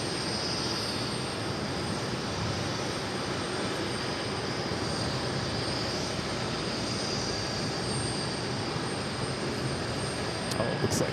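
An Atlas Air Boeing 777 freighter landing at JFK gives a steady, fairly distant jet roar that holds an even, moderate level for several seconds and rises slightly near the end, with no voices.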